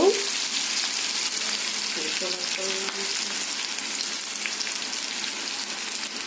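Curry leaves crackle and sizzle in hot oil for an amaranth and chana dal curry, a steady close frying hiss with a few brief stirring taps.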